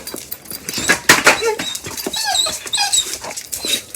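A dog right at a house door makes short whimpering, whining sounds and some panting, close and fairly loud, with brief bits of speech around it.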